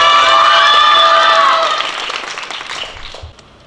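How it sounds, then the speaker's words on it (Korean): Audience applause and cheering at a student project presentation contest, a loud crowd clapping that holds steady for about a second and a half and then fades away. "다시 한번 큰 박수 부탁드립니다"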